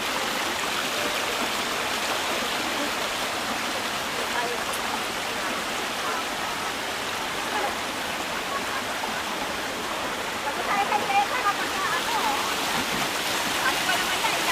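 A clear river in Infanta, Quezon rushes steadily, a dense continuous wash of flowing water, with voices faintly present over the stream.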